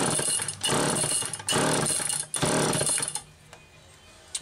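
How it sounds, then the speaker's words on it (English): Chainsaw starter cord pulled during a compression test with a gauge fitted, several loud rasping pulls in quick succession, each lasting about a second, then a quieter pause. "I'm going to give this 5 good pulls"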